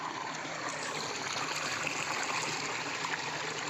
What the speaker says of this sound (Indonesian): Ini aliran dari Gunung Gede Pangrango